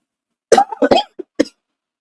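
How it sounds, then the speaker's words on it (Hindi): A single person coughing in a quiet room indoors, a sharp burst of several quick, loud coughs, close and alone with no talk or background noise. "खांसी हो रहा है।"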